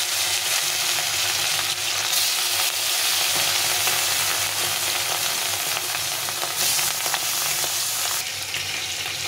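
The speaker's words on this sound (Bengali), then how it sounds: "তেলের মধ্যে মাছটাকে ভেজে নিচ্ছি।" Pieces of catla fish frying in hot oil in a pan, a steady, loud, close sizzle that hisses continuously throughout with no talking.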